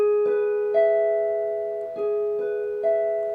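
Electric guitar picking barred notes high on the neck, a few slow struck notes ringing and sustaining alone at moderate volume, each attack followed by a long decay.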